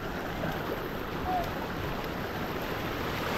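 Water pouring steadily at an 18-foot natural waterfall in Bolinao, Pangasinan, a broad continuous rushing wash that stays even and fairly close throughout, with no talk.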